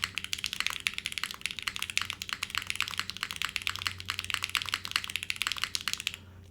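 Rapid, steady keystrokes on a TKD Cycle8 mechanical keyboard fitted with bean gaskets, crisp, punchy clicks close up with a faint low hum underneath and no talking.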